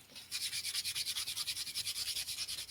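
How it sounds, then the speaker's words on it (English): Sandpaper scrubbing back and forth over playing cards in a fast, even rhythm of close, raspy strokes, with no voices. "I will take some sandpaper to my cards."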